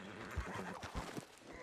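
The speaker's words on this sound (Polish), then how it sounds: "Jak mnie ten koń wkurwia, nie?" A horse in the video game Red Dead Redemption 2 gives a faint, breathy neigh with a few soft hoof thuds, heard at low volume.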